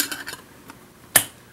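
A metal lid clanks onto a whistling tea kettle that has just been filled with liquid nitrogen, one sharp close metallic clack after a few light taps and clinks.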